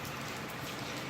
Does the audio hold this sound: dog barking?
no